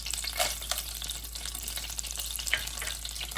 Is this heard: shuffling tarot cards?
no